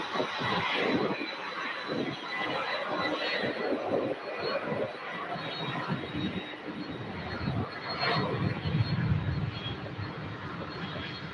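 A UPS Boeing 747-8 freighter, formerly flown by Qatar Airways, roars steadily at Louisville airport, a broad continuous jet rumble that swells slightly toward the end, with no voices over it.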